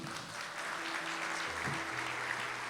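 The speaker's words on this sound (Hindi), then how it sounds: "एक दफा तालियां बजा दें।" Church congregation clapping during a Hindi-language sermon, soft and steady hand-clapping heard at a distance while a low hum or organ tone sustains beneath it.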